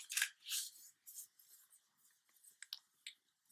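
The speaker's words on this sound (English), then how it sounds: "then you want to fold the other side in half." Sheets of origami paper are creased and folded in half, giving short crisp rustles and papery snaps in a quick irregular run, close and fairly quiet, with no talking.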